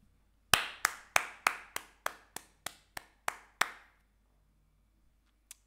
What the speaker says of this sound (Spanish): Sí, hay que aplaudir.